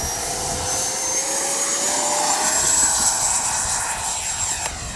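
A Freewing 80mm JAS-39 Gripen RC jet with its electric ducted fan takes off from grass, a loud sustained whine with a pitch that slowly rises as it accelerates away.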